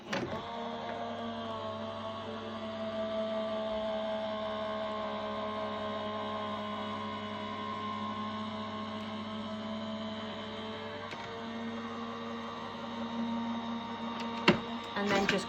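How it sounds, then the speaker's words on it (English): A die-cutting machine feeds cardstock through its rollers during card making, giving a steady motorized hum with sustained tonal drone that runs evenly throughout, ending with a few brief clicks near the end; no talking. "we're going to rotate it by 90 degrees like so, and then run that back through the machine"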